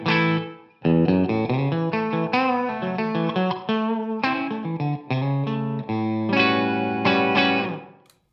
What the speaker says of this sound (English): I'm using the Strymon Blue Sky, and on the right side I have it set as a sort of medium plate.